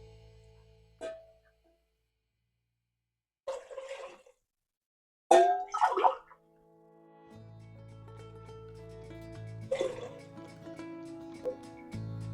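Water is poured into a pot of methi rice in several short, separate splashes with quiet gaps between them, and a steady low hum follows in the background.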